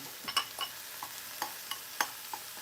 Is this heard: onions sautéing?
yes